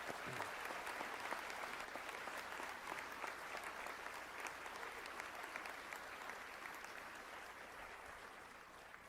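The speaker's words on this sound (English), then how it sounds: "Round of applause for these folks," Sustained applause from a crowd at a high school commencement ceremony, even and continuous clapping heard from a distance and quite faint, with no talk over it.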